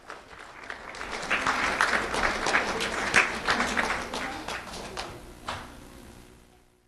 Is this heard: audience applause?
yes